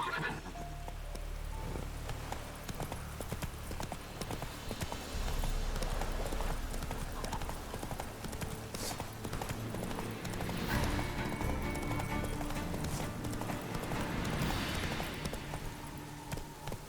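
Roach, the horse in The Witcher 3, gallops with a fast, steady clip-clop of hooves and snorting breaths, louder at first and easing later, against a background of game ambience.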